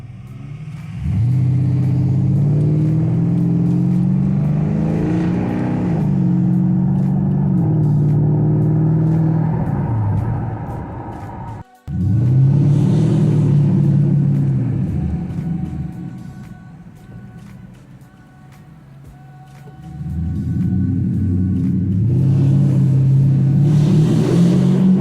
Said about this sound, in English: Let's take it for a spin, see what it does, guys.